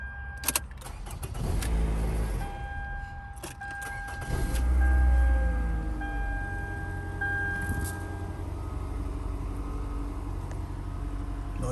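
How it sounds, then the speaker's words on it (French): A car engine cranks and starts after a battery replacement, settling into a steady idle with a brief jangle of keys near the start, heard up close and alone. "Donc, je viens de démarrer la voiture sans problème."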